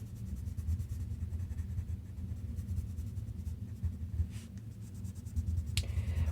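A pencil pressed hard on paper while drawing a Zentangle daisy gives a steady scratchy scraping that continues for several seconds, close and even, with a faint low rumble beneath and one sharp tap near the end.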